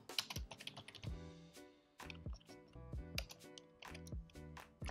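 Python code being typed on a computer keyboard, a fast irregular patter of close, crisp key clicks with brief pauses between bursts and no talking.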